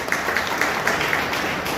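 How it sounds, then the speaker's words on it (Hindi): An audience applauds a person being introduced, a continuous loud clatter of many hands with a few sharper claps standing out at a steady rhythm. "इनके लिए जोरदार ताली होती है।"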